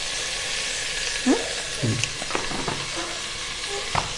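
Coriander powder being stirred into a ginger-garlic masala frying in a pan, a soft sizzle under scraping spoon strokes with a few clinks against the pan.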